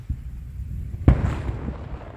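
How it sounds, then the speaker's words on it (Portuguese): A single sharp, distant boom from the Hunga Tonga volcanic eruption cracks out of a low background rumble, followed by a rolling low echo fading over a second or so. "esse vídeo aqui mostra o barulho da explosão."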